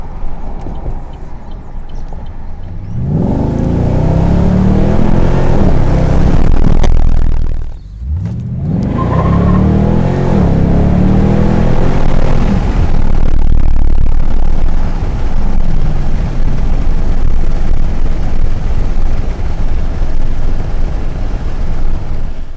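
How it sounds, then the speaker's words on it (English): A V8 engine with an aftermarket Di Filippo (DPE) exhaust on an HSV R8 Maloo revs hard with a deep, throaty exhaust roar, briefly drops off, then surges again and settles into a loud rumbling idle. "awesome deep throaty low note"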